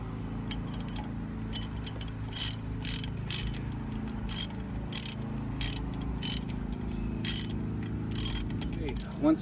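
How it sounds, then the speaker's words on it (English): Ratcheting wrench tightening 19 mm strut bolts during front strut installation on a 2007-2014 GMC Yukon XL Denali, a series of quick clicking bursts over a low steady background hum, close and moderately loud. "I'm going to do this finger tight right now, and then tighten it down with a wrench."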